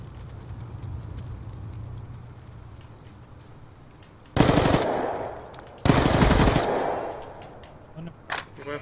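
Gunfire in Call of Duty: Black Ops II during a search and destroy match, with two loud bursts of rapid automatic fire over a low background hum and a short crack near the end.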